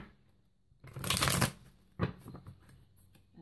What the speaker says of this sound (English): Three shuffles here.